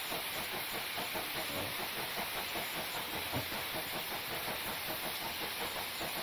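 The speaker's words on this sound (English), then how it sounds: "That sounds like a proper steam engine" Steam locomotive in Train Simulator Classic, a soft continuous hiss of steam with a faint, steady rhythmic chuffing underneath, fairly quiet and without voices.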